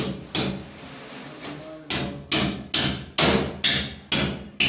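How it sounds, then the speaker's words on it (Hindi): Hammer blows ring out while a door is fitted onto a metal grill gate, about nine loud, evenly spaced strikes, each with a short metallic ring, close by with no talk. "ग्रिल गेट पे दरवाजा लग रहा है"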